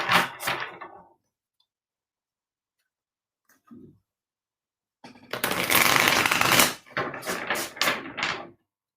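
Cards are riffled and shuffled at close range in a few bursts, a short rustling, a long pause, then a longer buzzing riffle followed by quicker flicks.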